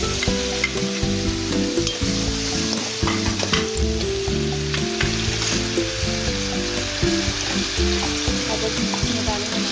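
Ginger and garlic frying in a pan for a moong dal recipe, a loud continuous sizzle with frequent clinks and scrapes of a stirring spoon.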